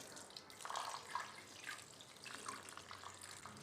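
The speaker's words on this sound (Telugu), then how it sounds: "మంచినీళ్ళు నేను ఇలా పోస్తున్నాను" Cold water pours over hot cooked low-carb VRK diet rice, a soft steady splashing stream with brief dribbles, faint and close, with no voices.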